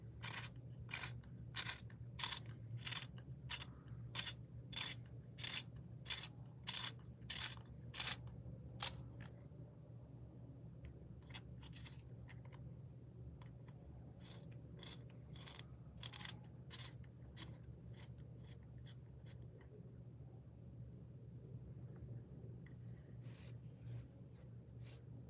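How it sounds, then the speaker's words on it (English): Pencil sketches a portrait on paper: a long run of crisp, rapid scratchy strokes in quick bursts, then softer intermittent shading strokes, close and quiet with no talking. "I'll shut up so you can hear the pencil."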